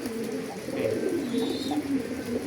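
A breeding bird of a flying-pigeon (kolong) breed cooing close by, with soft, low, rolling coos repeated in a steady rhythm over light background noise.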